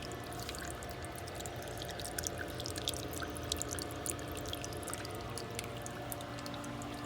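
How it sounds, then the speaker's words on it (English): Soft, continuous trickling water from a garden fountain, fairly quiet, set against the steady low hum of a pool pump. "I like the movement of it. I like the little trickle."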